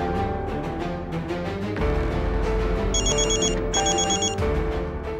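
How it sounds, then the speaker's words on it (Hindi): Telephone bell rings in a Hindi TV drama scene, two bright electronic ring bursts sounding clearly over background music, close and loud, with no speech. "विमेन वेलफेयर एसोसिएशन का फोन।"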